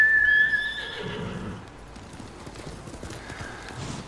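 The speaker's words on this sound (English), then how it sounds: "Horse." A horse in Ghost of Tsushima gives a loud whinny at the start, followed by softer hoofbeats clip-clopping at a steady pace.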